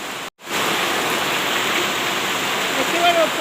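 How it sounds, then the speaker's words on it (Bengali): Torrential rain pours down at night as a loud, dense, continuous roar. It cuts out briefly near the start, then resumes steadily to the end. "দেখতে পারো প্রচণ্ড মুষলধারে বৃষ্টি হচ্ছে এখানে"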